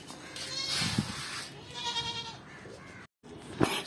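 A goat (bakra) at a livestock market bleats several times close up, with a loud cry near the start, another mid-clip and a sharp call at the end, over a brief gap of silence.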